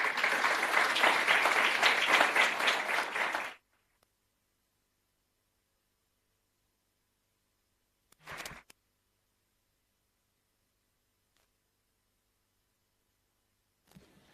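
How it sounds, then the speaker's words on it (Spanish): An audience at a weekend religious meeting in Spain applauds steadily for about three seconds, then the sound cuts to near silence broken only by a brief click or two. "con este aplauso le damos las gracias a Jehová por la información que hemos recibido"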